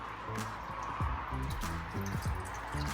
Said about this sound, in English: We're gonna put a whole 32 ounce carton of chicken broth in the pot.